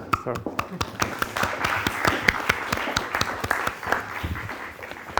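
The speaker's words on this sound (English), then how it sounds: "Oh, we should clap." Scattered audience applause before a talk on mobility, individual sharp claps standing out distinctly in a small group, fairly close, with faint voices in the background.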